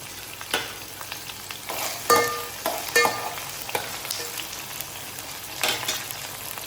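Oil sizzles in a frying pan as chilli, curry leaves, garlic and coriander are stirred for masala rice, a steady crackling fry broken by the scrape and clatter of the spoon against the pan.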